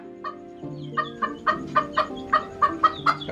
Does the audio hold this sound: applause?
no